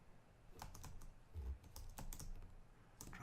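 Quiet typing on a computer keyboard, an irregular run of light key clicks spread across a few seconds while a CSS file name is entered, with no one speaking.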